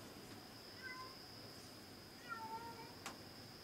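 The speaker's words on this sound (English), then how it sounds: "And I got a cat here, it's crying out there." A cat cries outdoors at some distance, two or three short meows rising faintly over a steady outdoor hiss and a constant high tone, with no one talking.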